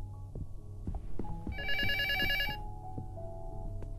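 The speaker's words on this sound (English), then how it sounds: "God damn, the phone's so loud or so far away." A telephone rings in the Luto horror video game with a bright, trilling electronic bell burst lasting about a second, heard over a low, rumbling ambient drone with scattered thuds.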